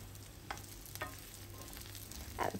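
Bone-in meat searing with onion and garlic in a tablespoon of olive oil in a pot, a quiet low sizzle punctuated by a few utensil knocks and scrapes, no voices.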